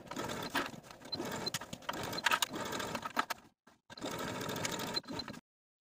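A sewing machine stitches the underarm seam of a dress in rapid bursts, running loud and close with a short pause before a final run, then stopping abruptly.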